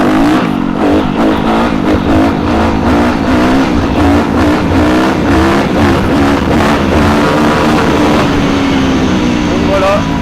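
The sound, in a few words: Yamaha YZF 250 motorcycle revving through gears during wheelie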